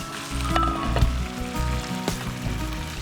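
Marinated chicken hariyali kabab sizzling in a pan over medium heat, a steady close frying hiss with a few brighter crackles throughout.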